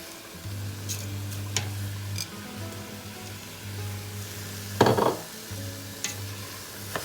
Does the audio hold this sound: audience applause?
no